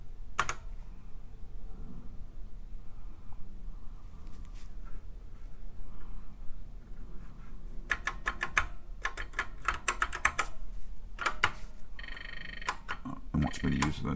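Keys clatter on a computer number keypad in bursts of quick presses separated by pauses, fairly close, over a low background hum, with a voice talking at times.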